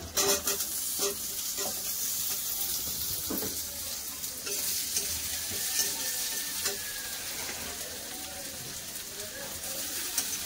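Potatoes sizzle and fry in hot oil with ginger-garlic paste for a river fish masala, a steady dense crackle with stirring scrapes throughout, close and fairly loud, with no voices.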